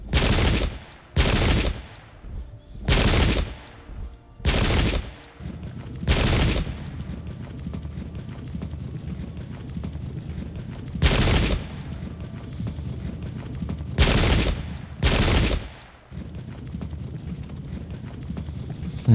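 Musket volleys from the Pike and Shot Campaigns game: loud, separate crackling bursts, a run of about five at steady intervals and then three more after a pause, each fading under a low rumble.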